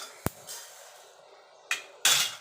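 A metal pan holding fried spices is lifted off a kitchen gas stove, giving a few brief clanks and knocks with quiet gaps between them and a louder scrape at the end.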